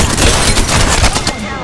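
Rapid, loud gunfire from Apex Legends, a dense burst of repeated shots in quick succession filling the moment, with game voice chatter mixed in.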